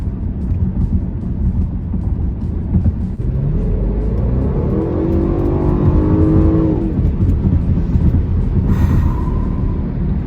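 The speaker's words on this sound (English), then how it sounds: "That supercharger is incredible. You feel the instant power and it just launches you forward" A supercharged 2016 Range Rover Sport accelerates hard, its engine note rising in pitch through the gears as a loud, continuous roar heard from inside the cabin, with a brief bump near the end.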